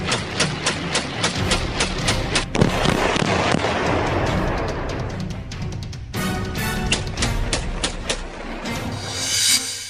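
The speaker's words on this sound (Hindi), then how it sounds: "AK-47 से ताबड़तोड़ फायरिंग करता ये खालिस्तानी आतंकी हरदीप सिंह निज्जर है" Rapid AK-47 rifle fire in played-back news footage: dense, loud bursts of sharp cracking shots crowd together in an almost continuous barrage, with no voices audible.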